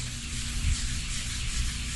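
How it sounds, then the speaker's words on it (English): Fiberglass gel coat on a boat hatch cover is wet-sanded by hand, a close, steady rubbing and scrubbing hiss with gentle back-and-forth swells and no voices. "You sand off a good bit of the gel coat to get it down smooth."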